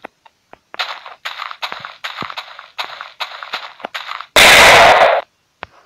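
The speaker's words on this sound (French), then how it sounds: "ça c'est une petite grenade" A small grenade goes off in a Minecraft PE gun mod, following a run of sharp repeated clicks and pops. The blast is a loud, noisy burst lasting under a second.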